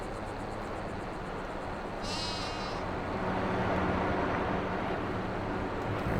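Sheep in Farming Simulator 22 gives a single short bleat over steady wind-like outdoor ambience, with low machinery rumble continuing beneath it.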